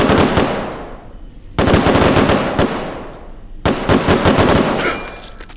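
Loud automatic gunfire from the VR shooter H3VR comes in three long, rapid bursts, each leaving a decaying echo before the next burst begins.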